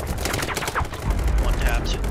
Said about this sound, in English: Guys, they're literally shooting at people here.